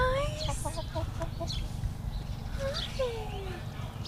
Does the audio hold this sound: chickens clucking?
yes